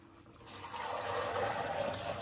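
Hot water poured into a container, a rising, steady splashing pour that swells over about two seconds, close and moderately loud.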